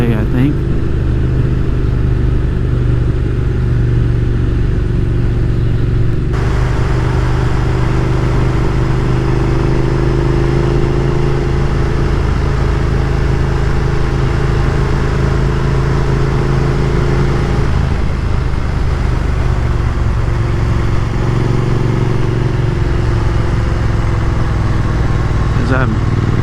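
A Triumph Thruxton R motorcycle is ridden on the Lowman Loop. A loud, constant engine drone is wrapped in heavy wind roar, with pitch shifts suggesting gear changes around six and eighteen seconds in.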